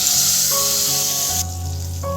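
A tempering of dried red chilli and turmeric fries in hot oil for raw mango pulusu, giving a steady, close, loud sizzle that runs unbroken through the whole moment, with faint tonal sounds in the background.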